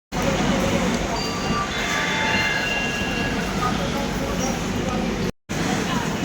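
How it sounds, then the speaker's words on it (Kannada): A train at a railway station produces a loud, steady rumble and roar throughout, with a momentary cut near the end. "ರೈಲ್ವೆ ಸ್ಟೇಷನ್ ಹತ್ರ ಇದ್ದೀವಿ ಗೈಸ್. ಟ್ರೈನ್ ತೋರಿಸ್ತೀನಿ ಗೈಸ್."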